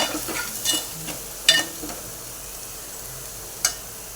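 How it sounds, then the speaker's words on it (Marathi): Spice masala being stirred and fried in a pan while preparing a dry clam masala, soft sizzling with intermittent scraping stirs and a few sharp clinks of the spoon, faint and close, with no talk. "आता हेही परतून घेऊया मसाले त्यामध्ये हे मिक्स करून झालं आपलं"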